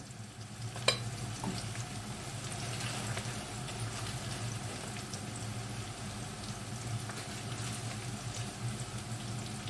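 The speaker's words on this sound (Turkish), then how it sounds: "soğanımı kavurdum. Kabağımı da döktüm. Şimdi kabakla da biraz sotelensin." Onion and zucchini sauté in butter in a pan, giving a steady close sizzle and crackle with faint stirring and one sharp clink near the start, and no talking.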